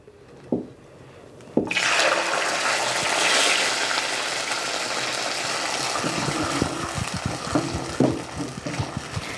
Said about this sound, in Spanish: La manteca ya está caliente, ya le voy a ir poniendo los frijoles.